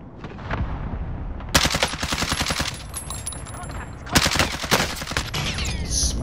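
Video game gunfire crackles in two loud bursts of rapid, automatic-sounding shots, separated by a quieter stretch of lighter popping and background noise.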